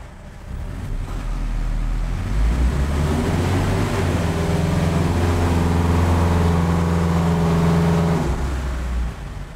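Car engine held steady at 2,500 RPM with extra ignition timing added, producing a loud, continuous drone with light detonation, rising in pitch and level after a couple of seconds, then settling before dropping off at the end.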